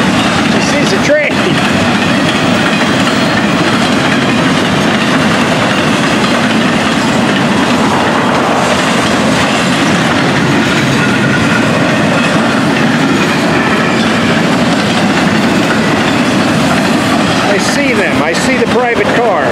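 A train with private cars rumbles past close by, loud and continuous, with rhythmic clickety-clack of wheels over the rails throughout.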